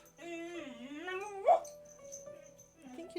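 A sleeping dog whimpers and yips while dreaming, a long wavering whine rising to a sharp yelp, then a thin fading squeak over a quiet room.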